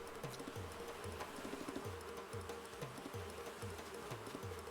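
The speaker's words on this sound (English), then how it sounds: "It's been a while since I've dealt with wasps." Wasps from Animal Crossing: New Horizons buzzing in a steady, droning hum, a dense repeating insect drone that fills the whole clip at a fairly quiet level with no talking.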